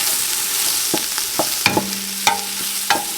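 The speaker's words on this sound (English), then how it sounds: "I am going to start sauteing in my large stock pot here the onion that I want in my tomato sauce." Chopped onion sautéing in a large stock pot, a soft steady sizzle with several sharp scraping and stirring knocks from a utensil against the pot, close by and with no talking.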